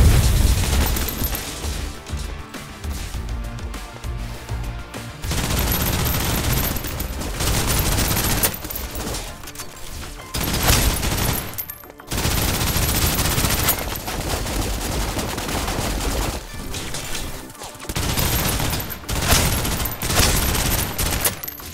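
Sustained suppressive gunfire in the video game Snowbreak: Containment Zone, dense automatic bursts and booms rolling continuously for about twenty seconds with brief pauses, loud and close.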